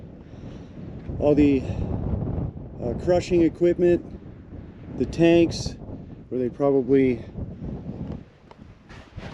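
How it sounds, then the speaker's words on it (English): Wind buffets a microphone with a low, rumbling roar throughout, while someone talks steadily over the gusts in a windy Death Valley valley. "Sorry for the wind, as usual."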